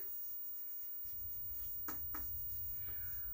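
A pen scratches across paper while notes are written down during a chemistry lesson, giving faint, close rubbing strokes with a few sharper taps partway through, alone without talk.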